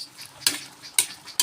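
A spoon scrapes and clinks against a pan while brown sugar is stirred into a pork grill marinade, three sharp metallic taps spaced evenly over a quiet background.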